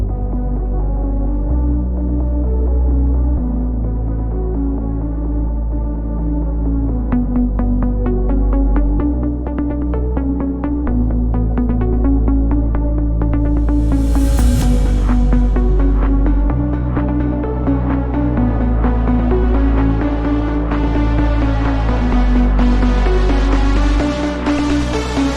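A melodic bass house intro built from clicky plucked synth notes over filtered house drums with no kick, steady and full throughout, ending with a rising noise sweep that swells into the breakdown; loud, with no talking.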